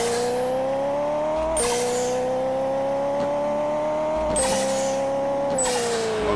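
A steady, loud engine drone with rising pitch from an Audi R8 in the Pixel Car Racer video game, broken by three brief gear-shift blips as the exhaust note climbs continuously.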